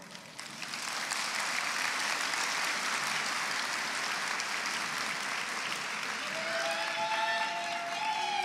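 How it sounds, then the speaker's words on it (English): Sustained applause from a large audience at a religious gathering's guest session, a dense clapping roar swelling quickly and holding steady for several seconds, with a faint tonal voice or sound emerging near the end. "we give you a big round of applause for your courage"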